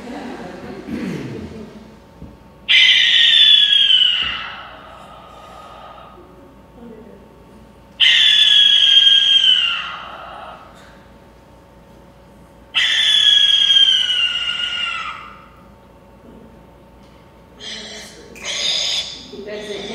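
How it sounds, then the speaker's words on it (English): Three long, harsh screeching calls of a screech owl repeat at regular intervals with quiet gaps between, followed by a couple of shorter raspy cries. "They should call this one the screech owl."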